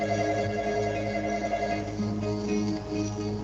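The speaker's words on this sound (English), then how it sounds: "When the phone rang that night" A telephone rings steadily and fairly loud through the whole stretch, its tone continuous and droning rather than broken into separate bursts, with no talking over it.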